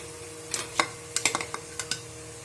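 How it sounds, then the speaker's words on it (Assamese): Close scraping and stirring of onion gravy frying in a pan for a boiled pork dish, over a soft sizzle, with irregular sharp clinks of a utensil against metal. "এইটো অকণমান গ্ৰেভিটো শুকাই যোৱালৈকে আমি অকণমান টাইম ভাজি থাকিব লাগিব"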